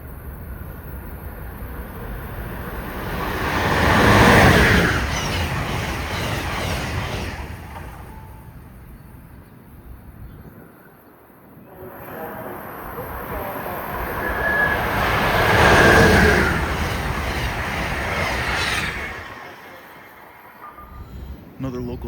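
A Keystone passenger train rushes past a station platform in two swelling waves of broadband roar, each building to a loud peak and easing off, with a faint horn-like tone near the second crest.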